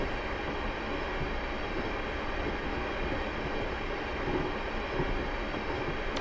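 A Class 450 electric train in Train Simulator 2021 slows on the Portsmouth Direct Line approaching Liphook, giving a steady, even rumble and whir of wheels and motors with no voices over it.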